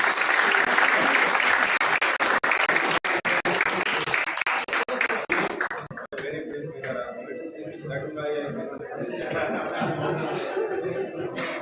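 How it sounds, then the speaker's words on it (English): A college valedictory session audience claps for competition winners, loud sustained applause with chuckles and laughter mixed in, thinning into scattered murmuring and voices toward the end. "Everybody, a big round of applause for them."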